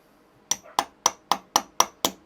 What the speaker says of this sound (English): A little tiny tinking hammer.